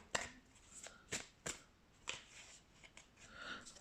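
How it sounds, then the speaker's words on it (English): Tarot cards being shuffled in quick, crisp bursts, several riffles and flicks spaced irregularly, fairly close and quiet, with no talking. "Let's shuffle some more tarot cards."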